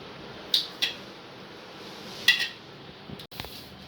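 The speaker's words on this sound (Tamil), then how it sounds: "உருளைக்கிழங்கு ரெண்டாக கட் பண்ணிக்கலாம்" Boiled potatoes are cut in half in a kitchen, producing a few sharp, light knife-on-plate clicks and clinks spaced apart over soft background hiss.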